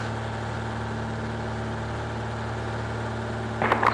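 A Cessna Skyhawk light aircraft engine runs at a steady, even drone, moderately loud and continuous, with a brief burst of clatter near the end.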